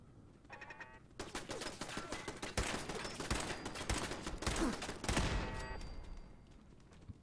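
Automated turrets in Fallout 4 rattle off sustained, dense bursts of gunfire for several seconds, loud and close, with rapid overlapping shots and no talking.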